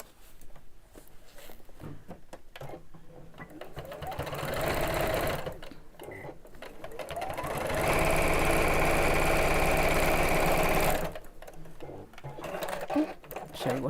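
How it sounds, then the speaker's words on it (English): Sewing machine stitching around the seams of a fabric lining, running in two long bursts of steady whirring needle rhythm, close and loud, with short pauses between and quiet talk in the gaps. "Line up the seams and we'll sew all the way around"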